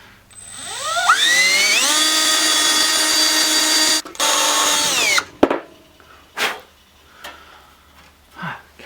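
A power drill boring a hole in a cast iron printing press motor part: the motor whines up in pitch, holds a steady loud drone for several seconds, then cuts off, followed by a few scattered clanks and knocks.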